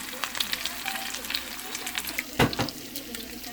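Food frying in a pan on low heat for a corned beef breakfast, a soft steady sizzle with light clicks and a brief rustling burst near the end, close by.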